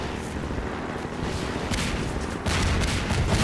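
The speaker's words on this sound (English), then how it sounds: "Stop shooting me!" Gunfire in the video game Half-Life 2 fills the clip, with dense overlapping shots and explosions forming a continuous loud barrage that grows heavier near the end.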